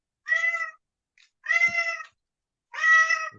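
A hungry cat named Anubis meows three times in close succession, clear and near, each call drawn out and slightly whiny, with short silent gaps between them.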